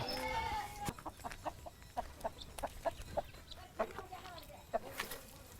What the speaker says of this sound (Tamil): நாட்டுக்கோழிகள் இதில் வளர்த்துட்ருக்கோம்